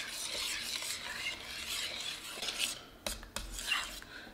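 Italian seasoning stirred into a simmering garlic shrimp alfredo sauce, soft spoon scraping and gentle bubbling sizzle, close and fairly quiet, with a couple of sharper clinks near the end.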